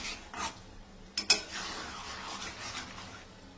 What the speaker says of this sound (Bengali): এরকম করে নাড়াচাড়া করে মিক্স করে সুন্দর করে এবার করবেন